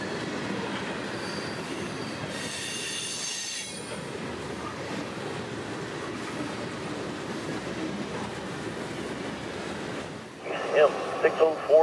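A CSX freight train rolls past on double track, a steady close rumble of wheels with metallic squealing and clicking joints, ending in a few sharper clanks.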